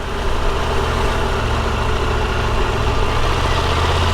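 A Triumph Tiger 1200 Rally Pro adventure motorcycle's engine idles steadily at 2,000 revs, a loud, continuous low rumble with wind noise, close and unbroken throughout.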